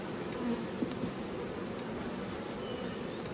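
Honeybees humming inside a hive brood chamber in early winter, a close, continuous buzzing drone that stays steady throughout.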